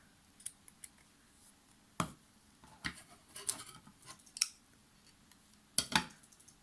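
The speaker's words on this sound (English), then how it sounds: "I'm gonna snip the yarn and tie a knot." Scissors snip yarn while finishing a crocheted amigurumi baby whale, giving a handful of crisp, close cutting clicks, with a distinct pair near the end.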